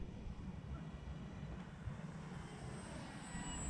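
Avios C-130 RC model airplane making a low pass from right to left, a faint steady engine drone with a rising whine toward the end.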